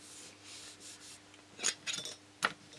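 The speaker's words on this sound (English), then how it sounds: "it's good to use a little steel ruler and our trusty hobby knife" A hobby knife cutting model aircraft fuselage rib parts along a small steel ruler, heard as faint, soft scraping strokes followed by a few sharper, brief slicing scrapes close by in a quiet room.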